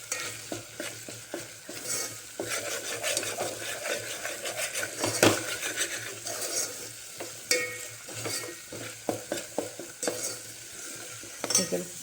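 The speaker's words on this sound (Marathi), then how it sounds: "त्याला मंद गॅसवर आपलं छान भाजूनच घेते तेलामध्ये" Masala frying in oil over a low gas flame for a chicken dish, with a continuous sizzle and frequent rhythmic scrapes and clacks of a spoon stirring against the pot, close and fairly loud.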